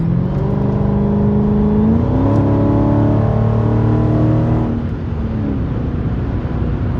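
A Dodge Demon's V8 engine revs loudly and close up, its deep rumble rising in pitch through the gears before easing off, heard steadily with no talking.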